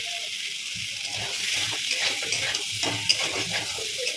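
Cumin seeds frying with taro in a pan give off a steady broad sizzle with scattered stirring scrapes throughout, at moderate volume.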